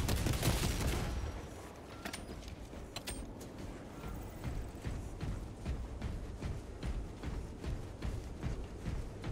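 Weapon fire in the video game Space Marine 2 cracks in short bursts over a dense rumbling battle bed, loud at first and then settling into scattered sharp shots and steady background clatter, with no talk.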